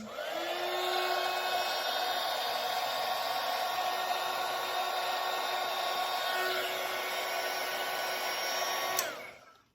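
A heat gun blows hot air onto Worbla thermoplastic with a steady, loud whirring roar that holds for about nine seconds, then cuts off abruptly.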